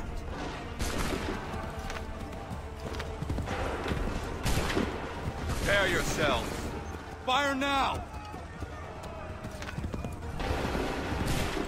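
Musket volley gunfire in the Assassin's Creed III video game, bursts of crackling shots amid horse hooves, a whinny and shouted voices over a busy, dense game soundscape.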